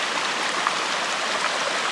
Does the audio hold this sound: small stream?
yes